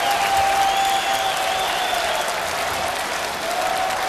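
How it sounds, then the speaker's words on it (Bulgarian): Loud, sustained crowd applause for a politician at a party concert, thick continuous clapping from a large audience with a faint tonal hum running beneath it and no speech. "Аплодисменти за Волен Сидеров."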